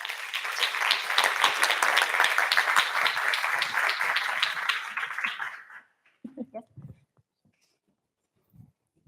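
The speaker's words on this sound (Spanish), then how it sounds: "Un fuerte aplauso para Carlota de Benito." An audience at a BCNspiracy 2018 linguistics talk applauds a speaker, producing dense, steady clapping for about five seconds before it stops abruptly, followed by a few faint sounds and quiet.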